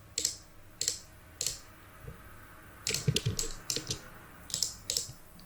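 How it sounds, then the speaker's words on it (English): Someone types on a computer keyboard and clicks a mouse while editing a photo in Photoshop, making crisp, close clicks in short irregular bursts with pauses between them. "I'm editing all this using a mouse and keyboard"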